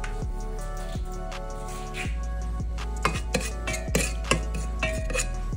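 Cumin seeds dropped into a little hot oil in a pressure cooker give a soft, continuous sizzle with small crackles and light clinks of the pot, close up and without talking.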